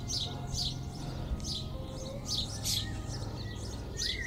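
Starlings gathered on ridge tiles at a morning gathering in Bempton give repeated bright chirps and whistles in short bursts, moderately close, over a low outdoor background hum with no talking.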